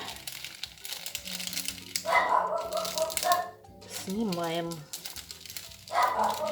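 A dog barks indoors in a few short, high yelping bursts while someone talks over it during a quiet craft session, with paper crinkling nearby.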